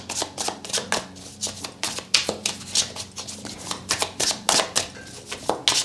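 Tarot cards being shuffled by hand, a steady run of crisp riffling slaps and flutters repeating in quick uneven bursts, close and fairly loud, with no talk over them.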